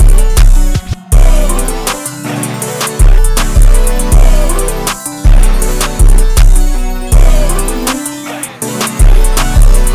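Full beat built in FL Studio with a piano lead over punchy drums, heavy kicks landing in a steady repeating pattern with bright percussion hits, loud and continuous for the whole stretch.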